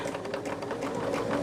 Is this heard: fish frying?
no